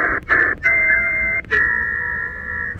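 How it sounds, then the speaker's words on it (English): PSK31 digital mode tones near 14070 on the 20 m amateur shortwave band, received in SSB on a Choyong LC90 radio: steady warbling carrier tones that break off briefly twice, over a hissy noise floor. "the little tones that you might hear around 14070 are"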